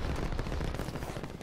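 Rapid gunfire in the Warzone video game, a dense continuous burst of loud shots filling the whole moment with no talk over it.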